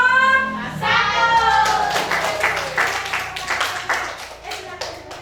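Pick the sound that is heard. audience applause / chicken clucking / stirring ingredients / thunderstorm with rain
audience applause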